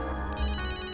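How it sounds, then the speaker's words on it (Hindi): A phone ringtone plays muffled from inside a bag, a steady tonal electronic ring heard close by at moderate level with no talking over it, in a TV crime drama scene. "फोन तो इस बैग में से बज रहा है।"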